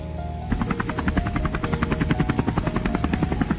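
Helicopter in a Hindi gangster video game, a loud, steady rotor chop with fast rhythmic blade thumps and engine whine that runs throughout, alone with no talking.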